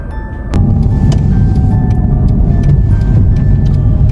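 Car driving away from home with passengers aboard: a steady, loud low engine and road rumble that settles in after a brief quieter start, with faint tonal hums and small rattles, no talking.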